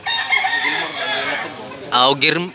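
A Gilmore gamefowl rooster with black and green legs, at a farm in Consolacion in northern Cebu, crows close by: a long, loud drawn-out call followed by two sharper bursts at the end.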